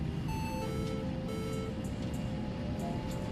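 A Fokker 100 cockpit sounds an autothrottle disconnect warning during the takeoff roll. Repeated electronic tones chime faintly over a steady low rumble of engine and cabin noise.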